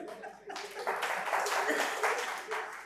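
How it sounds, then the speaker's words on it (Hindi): A seated audience at a financial wellness seminar breaks into applause, a dense wash of clapping that swells after a quiet start and holds steady, with some voices mixed in. "तो इन 2 शहर के लिए ताली हो जाए"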